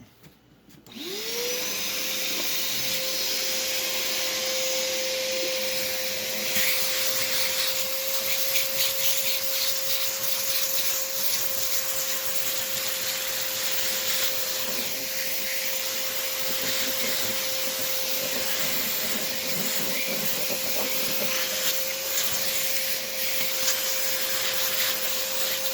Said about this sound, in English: All right, so I'm gonna hit it with a vacuum real quick.